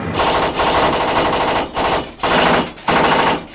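A 7.62 mm PKT tank machine gun fires from the weapon module of a BTR-4 armored vehicle in three loud, sustained automatic bursts separated by brief gaps, with no talking.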